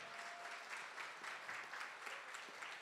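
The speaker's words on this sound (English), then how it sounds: "we also have a big, warm CSL round of applause for you in addition" A church audience welcomes first-time guests with faint, somewhat distant applause, a steady patter of many hands that swells slightly in brief pulses and continues without talk.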